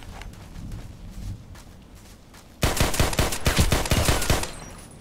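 Rapid bursts of USP pistol gunfire in a sniper video game, a loud run of sharp cracks packed close together after a quieter stretch of muffled ambient rumble.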